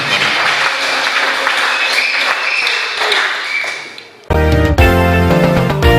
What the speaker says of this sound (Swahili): Tuage mtazamaji kwa makofi, sangwe na vigelegele.